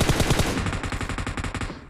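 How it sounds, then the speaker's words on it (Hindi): Rapid automatic gunfire from a BGMI battle, a dense burst of closely spaced shots that runs nearly unbroken for about two seconds, loud and close with no voices over it. "मैं इस पर फायर करता हूँ।"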